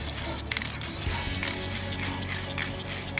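A headlight restoration coating is sprayed onto a car headlight outdoors on a breezy day: short hissing bursts of spray come in a loose rhythm over faint background noise.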